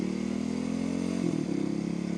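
A modified motorcycle, geared and set up for speed, rolls along slowly with a steady low engine rumble and loping idle-like pulse, close and continuous, with a slight throttle blip midway.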